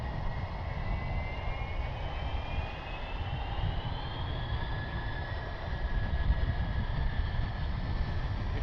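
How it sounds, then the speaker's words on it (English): NetJets Challenger 350 business jet passing near Cleveland Hopkins airport, a steady broadband engine roar with a slowly gliding whine, moderately loud and continuous throughout, no voices. "The NetJets business jet that's over here is a Challenger 350, not a Falcon."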